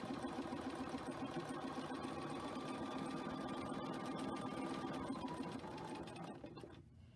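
Sewing machine stitching quilt pieces, a continuous close, even mechanical whir that runs steadily before slowing and stopping near the end.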